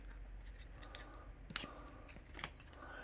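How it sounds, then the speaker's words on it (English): Silicone crystal mould being peeled away from a resin coaster, with soft rubbery tearing and sharp snapping peels close by, a strong pop around the middle and another near the end, no talking. "just peel this away"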